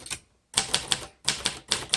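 Keys striking on a 1956 Royal Quiet De Luxe manual typewriter in charcoal finish, a close series of sharp clacking strikes in uneven bursts with a short pause between groups, no voices.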